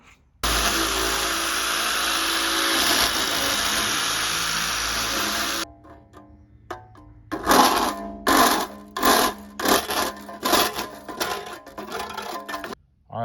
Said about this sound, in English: I've taken my cartridge roll on the drill and then also a hand file and open up this hole a little bit